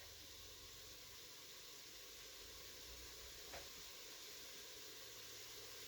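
Vegetables for homemade broth sizzle steadily in a hot pan, a dense continuous hiss and crackle close to the microphone with no talking.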